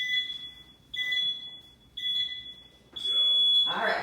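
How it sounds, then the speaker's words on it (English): A workout interval timer clock in a kids' CrossFit class beeps three times at about one-second intervals, each a short two-tone electronic beep, then sounds a longer, louder final beep that signals the start. "Clock's gonna beep in just a few seconds"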